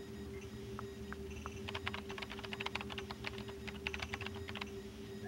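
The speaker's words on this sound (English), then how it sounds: "Use the keyboard to send whatever message you want." Rapid keyboard typing in the Paper Mario: The Thousand Year Door video game, a quick run of crisp key clicks over a steady electronic hum, with bursts of faster tapping in the middle.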